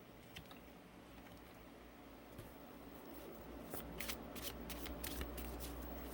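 Tarot cards are shuffled close by, a steady soft riffling and sliding that grows into quicker, crisper flicks toward the end, with no one speaking.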